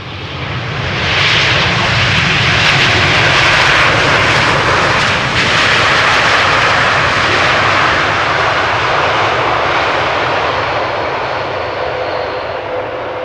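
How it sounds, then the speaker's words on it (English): A TUI Boeing 787 Dreamliner lands on Schiphol's Polderbaan on a hot sunny day, its engines roaring loud and steady across the whole stretch, a broad rushing jet noise that swells early and slowly fades. "First up, TUI Dreamliner."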